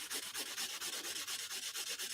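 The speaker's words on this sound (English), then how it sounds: "This is so fine, it's really polishing it more than it is sanding it." Fine sandpaper rubbed back and forth on a metal NYC subway token ring in a workbench setting, an even rasping stroke repeating about eight times a second, close and unbroken, with no talking.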